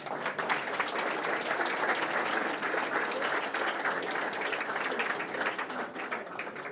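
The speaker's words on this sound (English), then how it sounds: "That deserves a round of applause." An audience gives a round of applause at a talk on Myrtle Beach High School football history: dense, steady clapping from many hands, close and loud, lasting several seconds before tapering slightly.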